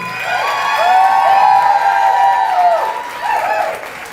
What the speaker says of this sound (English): please give her a massive round of applause, Heidi Kallenberg.